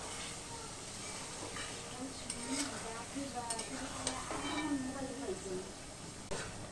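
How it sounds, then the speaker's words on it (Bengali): Paneer being sautéed in spices in a pan: a soft, continuous sizzle with occasional spatula scrapes and stirring clinks, fairly quiet and close, with some faint background sound. "মশলার মধ্যে একটু পনিরটা কষাই নিই"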